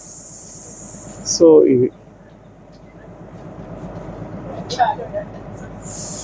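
The Kalka–Shimla toy train, seven coaches on a heritage mountain railway, runs with a steady low rhythmic clatter of wheels on track, heard from inside under someone speaking, with short bursts of louder noise.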